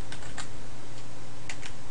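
A server address being typed on a computer keyboard, crisp close key clicks in quick uneven bursts, alone without talk.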